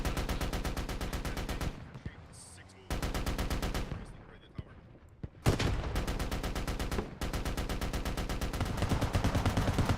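Gunfire in the military shooter game Squad: long, loud rapid automatic bursts with brief quieter pauses between them, dense and continuous up close.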